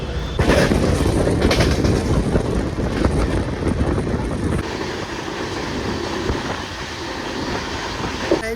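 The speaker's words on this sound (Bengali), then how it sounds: "দেখেন এইদিকে আমাদের ট্রেন দাঁড়িয়ে রয়েছে" A long-distance passenger train with sleeper coaches stands at a station platform, its broad rumbling hum and rail noise loud and steady throughout, easing slightly partway as the background settles.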